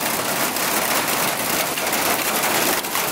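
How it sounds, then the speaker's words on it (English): Dense, steady patter of hail drumming on a van nearby, a constant hiss-like clatter with no voices. "Why is it every time I get near this van it starts hailing?"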